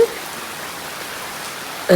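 Steady hiss of summer rain falling, even and continuous, with a brief sharper sound at the very start and end.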